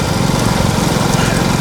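A loud, buzzing motorcycle engine runs steadily up close at a bullock cart race, its rough high-pitched drone constant throughout.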